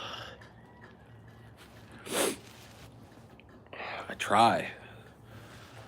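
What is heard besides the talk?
sniffling nose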